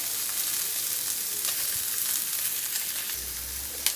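Bacon, calabresa sausage and onion frying together in a pan, a dense, continuous close sizzle with faint crackles and a low thump near the end; no voices.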